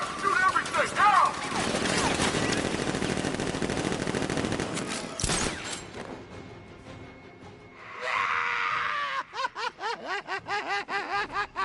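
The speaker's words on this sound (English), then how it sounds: "Guard! Open fire! Shoot everything!" Turrets and guards open fire in Batman: Arkham Knight, a sustained barrage of automatic gunfire for several seconds that cuts off sharply, followed by a burst of noise and then rhythmic snickering laughter.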